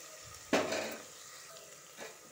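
Mutton curry being stirred in a pan, with one loud scraping, sizzling stir followed by a softer second stir, over a low background.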